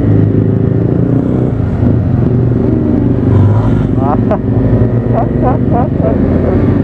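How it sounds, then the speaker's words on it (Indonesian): A Honda Vario 125 scooter rumbles steadily while riding, close and loud, with steady engine drone and wind under short bits of talk toward the end. "settingan Adam banget ini motornya, enak kan"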